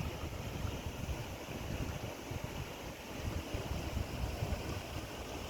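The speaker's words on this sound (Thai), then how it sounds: "ระบายน้ำลงห้วย" Water spilling through an opened gate of a weir and monkey-cheek reservoir in Ban Nong Waeng, Thailand, draining into a stream: a steady, full rushing wash with low churning rumble, continuous and fairly close, with no talk.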